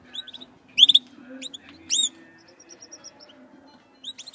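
Canaries sing in a restaurant in Pisco Elqui, Chile, with bright, clear chirps and short trilling phrases in scattered bursts over a quiet room hum.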